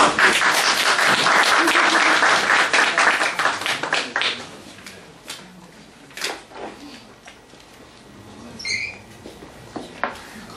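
Audience at a talk concert about starting a travel agency applauding a guest speaker's introduction, a loud burst of many hands clapping that fades out within about four seconds, leaving scattered faint claps and room noise.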